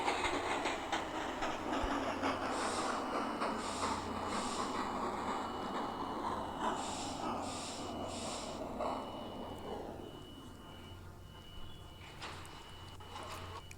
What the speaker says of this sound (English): This is a Manhattan-bound M train.